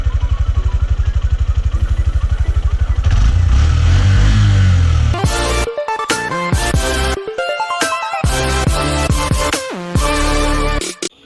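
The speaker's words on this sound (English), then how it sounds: "Another great feature is enhanced one-touch starting system, with which you can start this bike just in one touch." A Honda CD110 Deluxe BS6 motorcycle starts with a one-touch starter and its small engine settles into a loud, close, steady idle with some revving and clatter, no talk.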